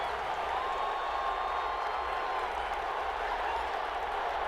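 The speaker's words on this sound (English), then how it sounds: "How about some applause for the defense there?" Crowd applause and cheering from a Madden 21 football game fill the clip as a steady, even wash of clapping, with a commentator's voice faintly under it.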